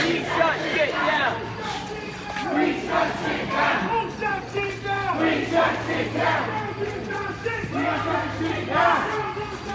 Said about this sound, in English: you'll get ready to hear the chants or people talking, echoing underneath the viaduct